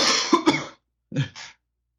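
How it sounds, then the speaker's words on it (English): Two or three sharp coughs from a podcast host, close to the mic, in two quick bursts with a pause between, then silence. "let me get this cough out"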